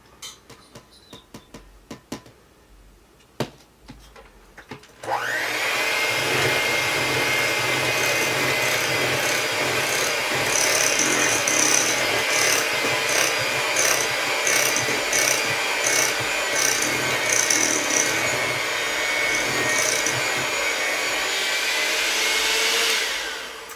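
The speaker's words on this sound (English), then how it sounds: "When you hear that mixer having a struggle" After a few faint clicks, an electric mixer whirs on loudly and grinds steadily through snickerdoodle cookie dough, its motor droning and labouring without pause.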